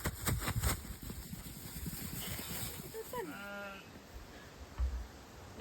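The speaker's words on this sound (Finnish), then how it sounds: "nämä lampaat kaikki päivät vaan makkaa täällä ja sitten käy syömässä" Sheep bleat outdoors among tree roots where the flock lies and grazes, one clear wavering bleat rising from moderate distance over faint rustling and low ambient noise.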